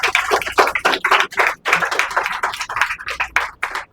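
Loud clapping from a group of people at a stage event, greeting a prize winner with dense, uneven bursts of hand claps that carry on steadily for several seconds.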